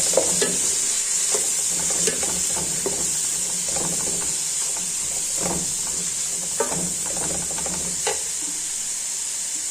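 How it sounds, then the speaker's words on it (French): Vegetable soup ingredients stirred in a pot over heat, a steady hissing sizzle with clusters of scraping and clinking from the spoon against the pot, fairly loud and close. "donc je remue"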